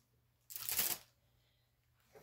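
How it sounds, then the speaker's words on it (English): A crystal clear plastic bag is folded in half, giving one short, close, crisp crackle lasting about half a second in an otherwise quiet room. "I'll just fold it in half, crystal clear plastic bags"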